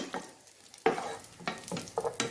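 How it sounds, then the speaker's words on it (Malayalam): Cashews and raisins frying in ghee, heard as a faint sizzle broken by several close, sharp stirring scrapes of a spoon against the pan; no talk. "ഇതുപോലെ തന്നെ ഞാനിവിടെ 1 കൈപ്പിടി കിസ്മിസ് എടുത്തിട്ടുണ്ടായിരുന്നു. അതും കൂടി ഇതിലേക്ക് ഇട്ടിട്ട് മൂപ്പിച്ചെടുക്കാം."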